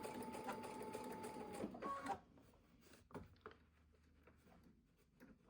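A sewing machine stitches fabric slowly along a curved seam, a steady mechanical whir for about two seconds before stopping, followed by quieter handling of the cloth.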